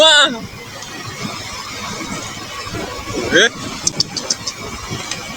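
Trucks idle in a long traffic jam on the road home to Depok, a low continuous engine rumble with a few brief mechanical clicks, while a person talks over it.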